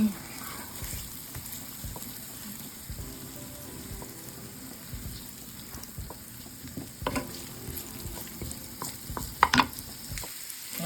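Fresh garlic sizzles in butter in a pan, giving a steady low crackle with a few sharper pops and spoon stirs near the end, and no voices.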